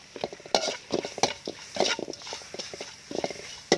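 Miang ingredients with lemongrass and eggs are stirred in a pot, producing irregular scraping and clinking strokes of a utensil against the pot, close and moderately loud.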